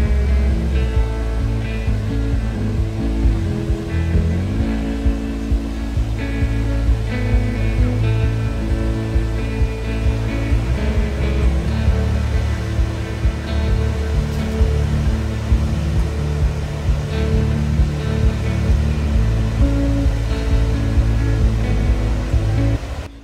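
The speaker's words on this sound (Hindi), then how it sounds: "नदी में गिरने वाले पानी की स्पीड बहुत फास्ट होती है जो एक फॉगी लुक पैदा करती है" Gira waterfall near Waghai roars with a dense, continuous rush of falling water, loud and steady throughout with no pauses.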